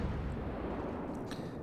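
Warship broadside gunfire in World of Warships, a low rumbling boom with a rolling dull roar that fades gradually, somewhat distant and moderate in level, heard alone.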